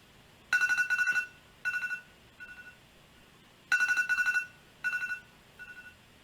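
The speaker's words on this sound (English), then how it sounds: "Amy picks up the phone to hear Tim's voice on the other end." Telephone ringing in two repeated bursts of rapid warbling electronic rings, each burst three pulses of decreasing loudness, clear and alone against quiet.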